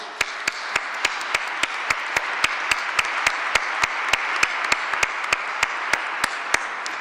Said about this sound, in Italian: la maestra Giulia Sudrio, a cui facciamo un applauso.